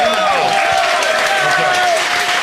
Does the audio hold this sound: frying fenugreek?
no